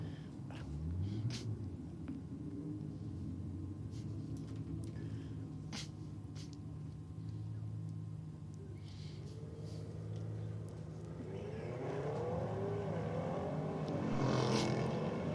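An Audi wagon launching at a drag strip, its engine rising into a loud, sustained roar, the pitch climbing steadily as the car pulls away, growing fuller over the final seconds.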